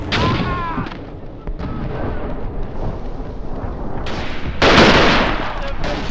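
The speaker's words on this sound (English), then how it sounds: "Oh, that's a grenade!" In the WWI shooter Verdun, a grenade blast and rifle fire crack close by, ending in a loud booming explosion and further shots.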